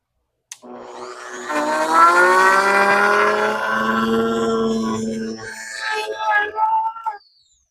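A Harbor Freight Bauer 23121E-B compact corded router spins up from a standstill into a loud, steady high-pitched whine, then wavers under load before cutting off abruptly.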